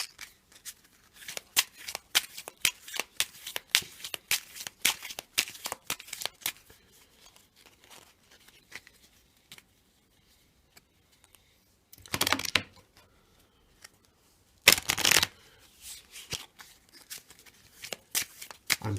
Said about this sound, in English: now I'm going to shuffle in the matchday cards with the remaining position cards like so